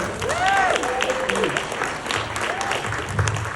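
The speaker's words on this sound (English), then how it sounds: "Let's keep it going for your host, Michael Freed" An audience applauds steadily, a dense wash of clapping with a voice calling out over it near the start.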